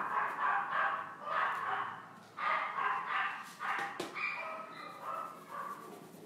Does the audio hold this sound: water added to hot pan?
no